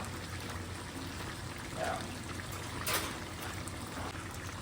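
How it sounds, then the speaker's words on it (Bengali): Hot water goes into a Pakistani-style beef karahi, a brief splashing pour and trickle rising over a steady background hiss of the cooking pot. "এক কাপ গরম পানি দিয়ে আবার দেড় মিনিটের মতো ব্রেক দমে থাকে"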